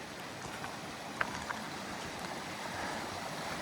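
A Highland river crossing on the Cape Wrath Trail, water rushing steadily and fairly quietly over stones, an even broadband wash with a couple of small splashes and no talk.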